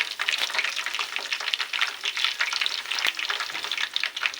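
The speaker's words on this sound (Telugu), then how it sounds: "ఇలా ఆవాలు జీలకర్ర పొట్టి మిరపకాయలు వేసుకొని బాగా ఇవన్నీ అయ్యే వరకు కలుపుకోవాలి" Mustard seeds, cumin and small chillies fry and crackle in hot oil for a mango pickle tempering, a dense, steady sizzle with sharp pops and spoon scrapes throughout, close and alone.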